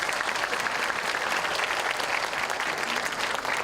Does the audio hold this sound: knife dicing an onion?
no